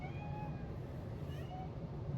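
A pet cat meows a few times nearby, thin rising and falling cries over a steady low background hum.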